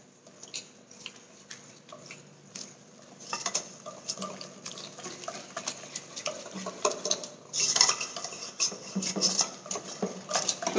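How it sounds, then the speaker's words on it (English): Ragi crepe batter is stirred in a bowl, a soft clinking and scraping of a utensil against the bowl in uneven bursts, fairly quiet and close, growing busier partway through, with no talking. "I'm going to give this a nice mix."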